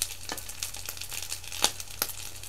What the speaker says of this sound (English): It's rice balls, everyone. I'm frying them up.